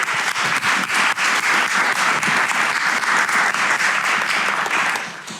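Audience at an infrastructure panel applauding the panelists, a loud, dense burst of many hands clapping that holds steady for several seconds before starting to fade.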